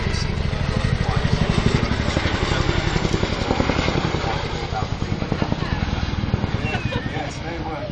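An RAF Chinook helicopter at an airshow makes a steady, loud, throbbing rotor beat that runs without a break, with a commentator's voice over it the whole time.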